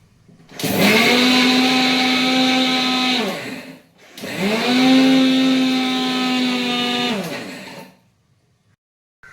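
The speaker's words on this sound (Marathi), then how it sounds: "आपण या सगळ्याला वाटून घेऊया म्हणजे आपली चटणी तयार होईल।" A mixer grinder whirs loudly while grinding khurasani chutney with garlic and salt, in two steady bursts of a few seconds each with a short break between, then stops.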